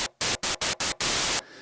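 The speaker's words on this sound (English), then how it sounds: "we can choose either a white noise or pink noise" White noise from a synthesizer's noise oscillator sounds as a steady hiss, broken into five short bursts and then one longer sustained one, clear and close with no voices.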